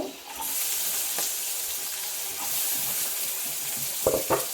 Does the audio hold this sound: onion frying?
yes